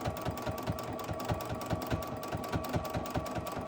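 A sewing machine quilts a practice block at a fast, even stitching rhythm. The mechanical clatter is close and steady throughout, with no one talking.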